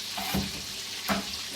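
Vegetables and seasonings for escovitch fish drop into a hot pot of oil, a steady sizzle and frying hiss with two brief stirring surges, close and moderately loud with no talk.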